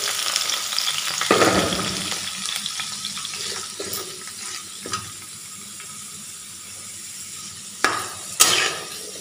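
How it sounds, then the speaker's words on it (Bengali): Papaya and potato fry in oil in a wok with a steady, close sizzle throughout, punctuated by a few sharp scrapes and clatters of stirring near the start and end. "প্রথমে আমি কড়াই তেল দিয়ে পেঁপে ও আলু ভেজে নেব।"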